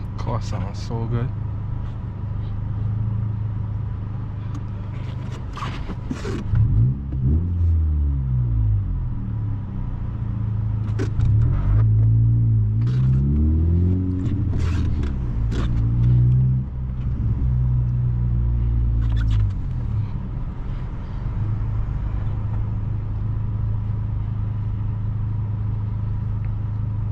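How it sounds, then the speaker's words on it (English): A turbocharged Honda Civic Si hatchback engine rumbles and revs from inside the car, with several rising and falling sweeps of engine pitch under a steady drone, and a voice speaks intermittently. "Car sounds so good."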